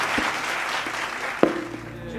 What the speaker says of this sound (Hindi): तो जोरदार तालियां हो जाएं इन लोगों के लिए